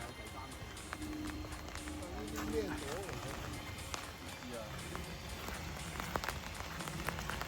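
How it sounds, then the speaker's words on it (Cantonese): Rain beginning to fall on a hillside trail, a steady patter of drops on surfaces with scattered louder taps, under faint background voices. "依家開始落雨啦。"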